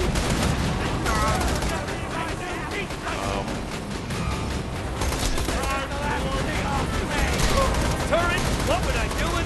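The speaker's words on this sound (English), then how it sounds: "Nothing like a turret, kid." A turret in Borderlands 2 fires without pause, a dense rapid stream of gunshots over a busy battle with no break in the loud clatter.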